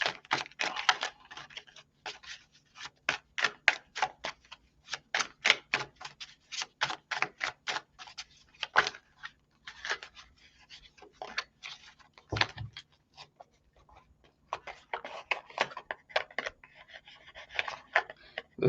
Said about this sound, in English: This deck is not the easiest to shuffle